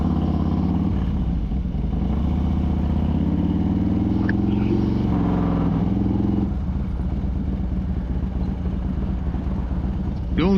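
Harley-Davidson Road King motorcycle on a cold ride, a steady low engine drone with shifting pitch and a gear change near the middle, wind noise over it and a rider's voice occasionally heard.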